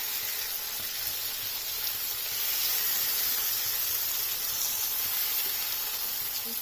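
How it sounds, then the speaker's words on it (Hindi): Fish fries on a tawa griddle with a loud, steady hiss and crackle of hot oil that holds unbroken throughout, close and with no voices. "फिश बहुत अच्छी सी फ्राई हो रही है।"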